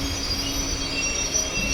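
Train wheels squeal steadily as a train rolls into Chalama railway station in the Nallamala hills on the Nandyal–Giddalur line, a continuous metallic screech over a low rolling rumble, with no talk.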